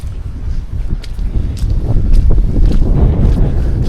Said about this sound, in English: The wind has suddenly picked up. I don't know if you can hear that on the camera or not